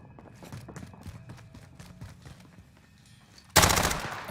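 Rapid gunfire bursts crackle through a shooter video game match, a steady stream of close shots for several seconds before a sudden, much louder blast of firing takes over near the end.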